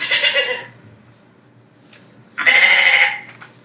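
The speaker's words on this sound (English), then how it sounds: "It's a sheep and a goat." Farm sheep and goat bleating, two loud separate bleats: one near, wavering call at the start, a pause of faint background, then a second strong, slightly longer bleat.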